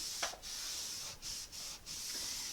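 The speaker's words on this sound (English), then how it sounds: "and just start wiping" A cloth rubs wood stain onto a wooden end table, a steady close, soft swishing texture broken by a few brief pauses between strokes, with no talking.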